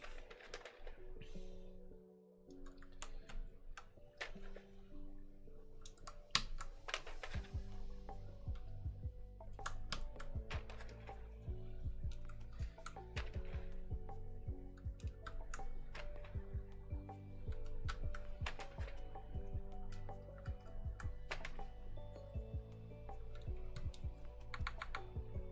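Keys clacking steadily on a freshly assembled mechanical keyboard, a dense, close run of sharp clicky strokes that continues for the whole stretch.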